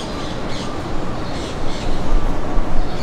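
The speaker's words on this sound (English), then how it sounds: "Those were green parrots that like flew by" Green parrots give several harsh squawks as they fly past outdoors in Hawaii, heard against a loud, steady background rumble.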